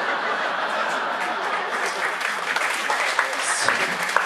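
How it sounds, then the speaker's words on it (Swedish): Audience applause at a stand-up comedy gig, steady dense clapping mixed with scattered chuckles and a few louder claps near the end. "Så ger en stor applåd till Stefan Sörblom!"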